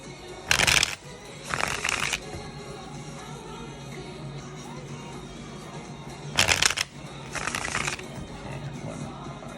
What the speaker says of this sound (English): I'll just do a few shuffles.